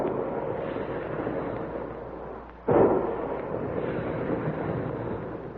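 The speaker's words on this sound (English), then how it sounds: "Big guns. Hear them?" Big guns firing as a sound effect in an old-time Dick Tracy radio crime drama: one sharp boom cuts through a steady rushing roar midway, under a narrow, muffled broadcast band with no voices.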